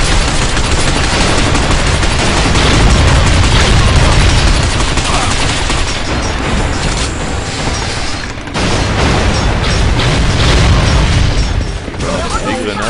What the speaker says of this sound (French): Des grenades.